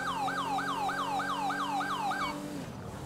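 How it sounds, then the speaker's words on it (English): A police car siren in the video game GTA 5 wails in a fast repeating yelp pattern, loud and close over an engine drone, then cuts off abruptly near the end. "Try to use other sirens."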